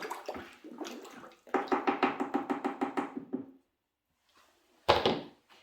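Ceramic glaze is mixed in a bucket, a rapid rhythmic series of sloshing, thudding strokes that then stops, followed by a brief pause and a single louder knock or splash.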